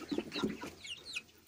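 Young roosters and red hens cluck and murmur softly in a quick run of low calls ending in a higher squawk, close by but faint, with no voices.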